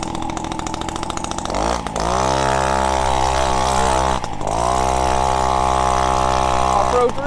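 Peugeot 103 RCX moped engine with a Dellorto SHA 15/15 carburetor, revving hard as the ride starts: a loud, close two-stroke buzz that rises, dips briefly near two and four seconds, then holds a steady high-pitched drone.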